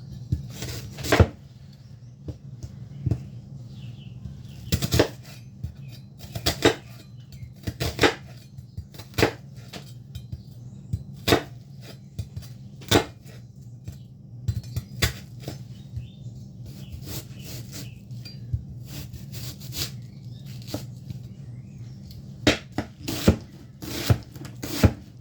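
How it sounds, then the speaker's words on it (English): Knife dicing vegetables on a chopping board for a wartime ration-style bean soup, with irregular sharp chops and taps in short bursts over a low steady background hum, close and moderately loud. "Do I want this diced?"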